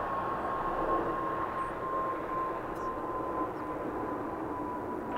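A Frontier Airlines Airbus departing at Los Angeles airport, a steady distant jet roar holding evenly throughout with a faint tonal whine.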